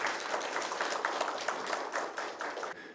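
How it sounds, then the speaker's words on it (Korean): Audience applause at a policy forum on fire-service reform, a steady wash of many hands clapping that carries on for several seconds before stopping abruptly, with no voices over it. "박수 한번 보내주시죠."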